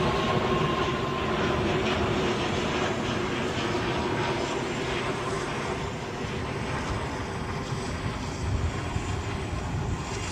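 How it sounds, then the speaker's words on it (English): Close to the runway at Edinburgh airport, an Embraer jet airliner's engines give a loud, continuous rumbling roar with a rattly edge, steady from start to finish and alone without speech. "that Embraer sounds like a bag of spanners."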